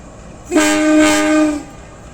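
A loud train horn blows one sustained, steady tone for about a second over low rumbling rail noise as a locomotive approaches a station in Indonesia.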